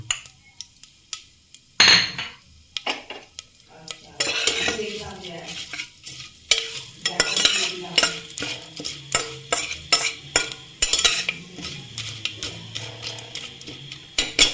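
Cashews frying in ghee with bay leaf, dried red chilli, cardamom, cinnamon and five-spice, a light sizzle under sharp metal clinks and repeated scraping stirs in a pan, close and unvoiced, with a few quiet pauses.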